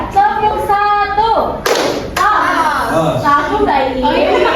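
Schoolchildren in a classroom clap hands in a counted pattern: two sharp, loud broadband claps land close together, mixed in among children's voices and a teacher talking.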